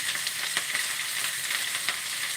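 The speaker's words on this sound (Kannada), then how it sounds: "ಈರುಳ್ಳಿ ಚೆನ್ನಾಗಿ ಫ್ರೈ ಆಗಲಿ" Sliced onions fry in hot oil with mustard seeds, cumin and curry leaves, giving a dense, steady sizzle with small crackling pops, close and continuous with no talk.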